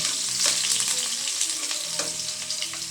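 Sliced onions sizzle steadily in hot oil for a papaya and sardine pancit, a loud, continuous crackling fry with occasional stirring clinks and no one talking.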